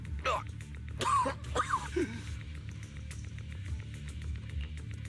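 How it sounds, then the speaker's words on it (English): A character in the video game Zenless Zone Zero gives several short, strained coughs in quick succession, close up over a low ambient background that continues after the coughing stops. "Monato, you're coughing up blood."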